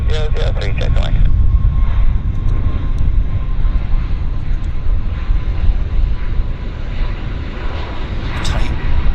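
A heavy airliner's engines roar steadily and loudly at Vancouver airport, a broad sustained rumble that continues throughout, with a short burst of radio chatter at the start.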